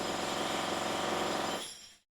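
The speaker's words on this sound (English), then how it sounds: "can you hear that jackhammer?" A jackhammer pounds steadily in the background in a dense rapid rattle, then fades and stops abruptly near the end.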